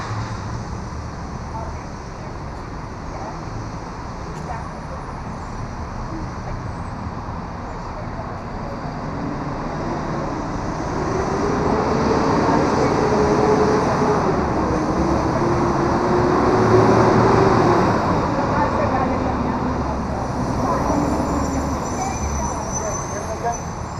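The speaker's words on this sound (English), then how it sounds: "Trash truck pass. That's like the worst thing that could be driving past." A trash truck rumbles past outdoors during a courthouse press conference, a loud broadband roar that swells and fades over about twenty seconds, with engine whine and people talking underneath.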